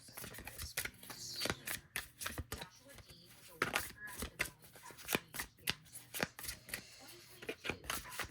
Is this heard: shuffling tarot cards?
yes